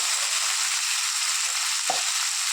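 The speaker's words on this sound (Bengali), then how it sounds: "দিয়ে দিলাম পেঁয়াজটা ভাজা হতে" Chopped onion frying in hot oil in a pan makes a steady, close, dense sizzle that runs unbroken throughout, with a single soft knock of the pan or spoon near the end.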